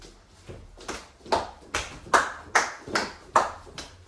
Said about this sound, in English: while running, we will be clapping to the beat